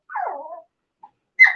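A dog growls low and then gives a sharp bark nearby, with a brief whimper-like yip between, the sounds separated by short silences.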